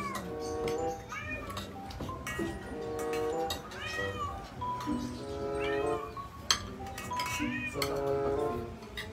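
A cat meows repeatedly in a home kitchen where fish is being cooked, giving several drawn-out rising and falling cries close by, mixed with people talking and some clatter.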